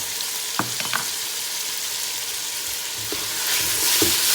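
Onions dropped into a pan for a lamb stew, fizzing in a dense, continuous sizzle that swells toward the end, with a few soft utensil knocks and scrapes, no speech.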